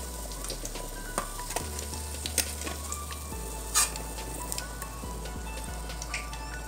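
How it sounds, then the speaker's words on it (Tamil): Cauliflower 65 pieces deep-fry in hot oil with a steady, soft sizzle. Scattered crackles and small pops rise above it throughout, with no voices. "இந்த மாதிரி எல்லாத்தையும் பொறிச்சு எடுத்துக்கலாம்."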